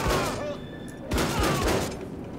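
Shotgun blasts from the first-person shooter Wolfenstein II: The New Colossus, two loud close bursts about a second apart, mixed with game sound and a voice talking over the action.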